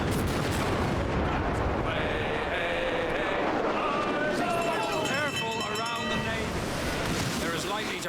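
Ship cannons fire a broadside during a naval battle in Assassin's Creed Black Flag, booming over ocean surf and creaking hull noise, with music and shouted voices layered throughout.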